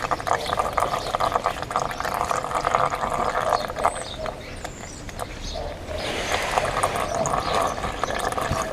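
Engine oil draining from a 2015-2018 Mitsubishi Outlander Di-D diesel into a drain pan, a continuous splashing, trickling stream that swells louder toward the end.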